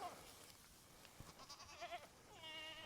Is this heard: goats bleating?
yes